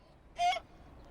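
A single short honking quack from a duck, loud and close, lasting about a fifth of a second against a quiet background.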